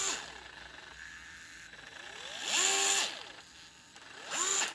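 A DeWalt DCF682 8V gyroscopic screwdriver whirs in two bursts, its motor pitch rising and falling as it speeds up and slows down, moderately loud and close, with quieter stretches between runs.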